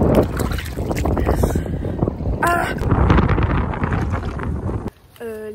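Strong wind buffets the microphone at the seaside, a loud continuous rush with gusts, while a person briefly makes a short vocal sound near the end.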